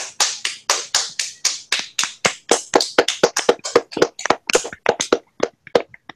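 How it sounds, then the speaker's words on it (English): On a motorsports talk show, a single pair of hands claps close up to celebrate a NASCAR race win, producing about thirty sharp, evenly spaced claps that slowly grow uneven. "That deserves a round of applause."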